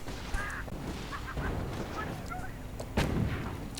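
Hummel self-propelled artillery firing in a video game: a few heavy booming shots spaced apart, with a sharp report near the end, over a busy battlefield background.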